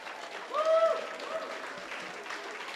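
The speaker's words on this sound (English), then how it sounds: "big round of applause for our best man" Wedding guests clap for the best man after his speech: a soft, steady round of applause with a brief whooping cheer near the start and faint murmuring voices underneath.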